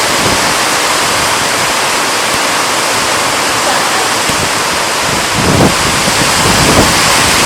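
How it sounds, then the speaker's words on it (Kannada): A strong wind roars in a continuous broadband rush on a stormy, rainy day, loud and close on the microphone, with a brief deeper gust swelling near the end. "ಅಟ್ರಾಸಿ ಗಾಳಿ ಮಾರು, ಅಟ್ರಾಸಿ."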